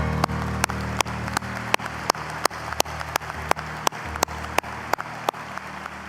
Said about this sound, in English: Let's give Mr. Dwight Birdwell, please, another round of applause